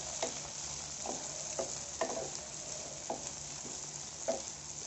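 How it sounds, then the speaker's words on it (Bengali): Mutton kosha with onion and tomato is stirred in a pan over faint, steady frying sizzle, with soft scraping strokes of the spoon landing every half second or so, quiet and close. "আবারও ভালো করে নেড়ে চেড়ে"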